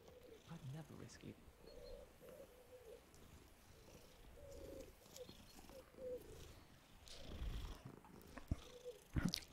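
Cats purr in the Hogwarts Legacy video game, a soft, low, rumbling purr near the listener, joined by faint cooing birds and quiet background game sounds.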